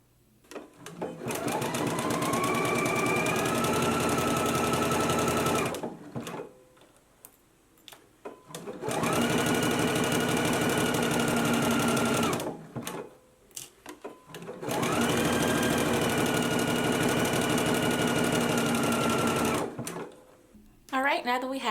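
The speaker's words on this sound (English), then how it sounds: "So let's go ahead and stitch our side seam and sleeve seam in place now." A home sewing machine stitches the side seam and sleeve seam of a loungewear top in three long, steady whirring runs, each several seconds, separated by short quiet pauses.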